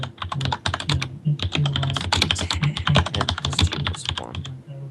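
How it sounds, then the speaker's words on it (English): Rapid typing on a very loud computer keyboard right beside the microphone, dense clacking keystrokes in quick bursts with brief pauses between them. "Adam has a super loud keyboard."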